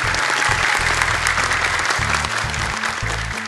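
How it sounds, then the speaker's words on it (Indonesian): Studio audience applauding at an Indonesian Quran memorization TV competition, a dense, sustained clapping that fills the whole stretch with light music underneath. "Tepuk tangan untuk mereka."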